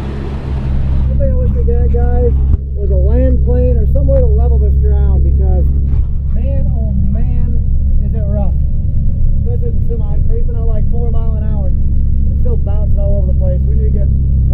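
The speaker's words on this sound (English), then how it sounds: "First loaded semi of the year, on the move." A semi truck loaded with freshly harvested wet corn drives along, its engine a loud steady low rumble throughout while a person talks over it close by.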